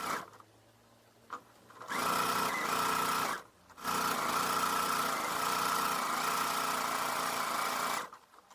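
A sewing machine stitches around the edge of a cloth bag meant for holding medicine. Two brief bursts come first, then two long, loud stretches of rapid whirring stitching separated by a short pause, close by with no talking.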